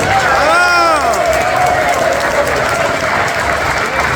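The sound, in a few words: audience applause at assembly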